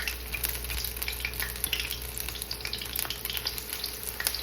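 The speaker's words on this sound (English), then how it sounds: "you're going to let these fry on 4 minutes on each side until brown" Beer-battered lobster tails fry in hot grease, giving a close, continuous crackling sizzle with dense bubbling pops and no talk.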